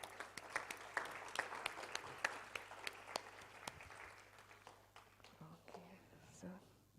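Scattered, fairly faint hand clapping from a small group at a review meeting, with distinct individual claps that thin out toward the end as murmured voices come in underneath.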